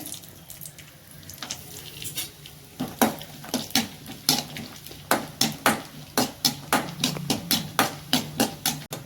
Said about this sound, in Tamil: இப்போ நெய் ஊற்றிடுறேன் முந்திரி சேர்த்துக்கிறேன்